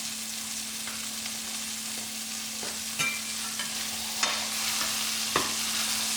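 Steaks sizzling in a hot pan as they are flipped, a steady bright frying hiss with a few sharper crackles and spatters near the mic, no talking.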